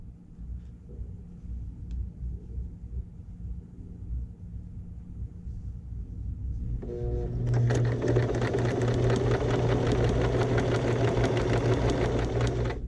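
A sewing machine stitches patchwork fabric. It starts after a quiet stretch with a faint hum and then settles into a loud, fast, even mechanical whir of needle strokes for the rest of the time.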